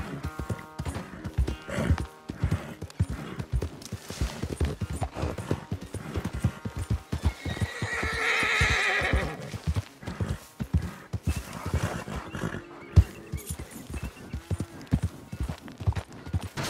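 Horse hooves clip-clopping steadily in Red Dead Redemption 2, a continuous close rhythm of hoofbeats with a brief neigh in the middle.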